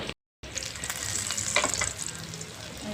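Chicken sizzles and spits in hot oil in a pan, a steady soft crackle with a few sharper pops, heard close and fairly quiet after a brief silent gap at the start.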